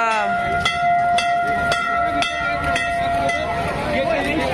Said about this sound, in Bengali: এই ট্রেনটাই ওইদিকে যাচ্ছিল।